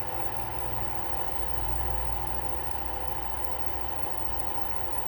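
A small electric motor runs steadily at 90 volts on a lab practical bench, giving a continuous low hum with a faint mid-pitched whine, even and unbroken throughout, with no talking.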